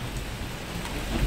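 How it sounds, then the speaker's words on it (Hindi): Heavy rain pours down on a road in a dense, continuous hiss and patter that holds steady throughout, with no talking. "आज को इतना बारिश हो रही है, हैवी बारिश"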